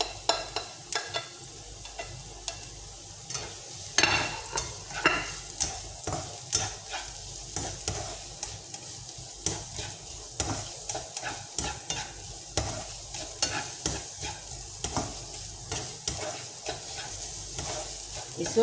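Onion and spring onion fry in hot oil, a steady crackling sizzle broken by repeated scraping and stirring strokes of a utensil against the pan, with no voices.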